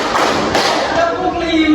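Classroom students clapping together in rhythm, a short run of sharp group claps close by, with voices mixed in.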